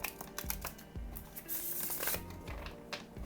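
Lost Hollow tarot cards being shuffled by hand, a run of quick crisp riffling slaps and flutters repeating every half second or so, close and clear with no talk.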